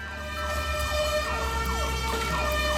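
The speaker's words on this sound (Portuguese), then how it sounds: "quando começaram as sirenes lá embaixo" Emergency sirens start up from below, rising and falling wails repeating in a steady cycle, loud and clear with a low rumble underneath and no talking.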